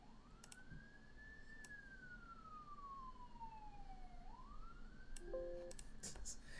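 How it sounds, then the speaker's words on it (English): A distant siren wails outside, a single faint rising and falling tone sweeping slowly across the clip beneath steady background noise. "I hear a siren. Yeah, that's from outside."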